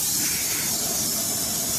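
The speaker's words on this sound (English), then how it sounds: "Let's go ahead and spray the disc off front and back, along with the spindle assembly." Cleaner sprayed onto a Ford Bronco brake disc and spindle assembly, one continuous loud, close hiss of aerosol lasting the whole moment.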